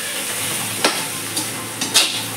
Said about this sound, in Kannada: ಈಗ ನೀರುಳ್ಳಿ, ಉಪ್ಪು ಹಾಕ್ತಾ ಇದ್ದೇವೆ ಅಂದರೆ ನೀರುಳ್ಳಿ ಸ್ವಲ್ಪ ಬೇಗ ಬೇಯಲಿ ಅಂತ.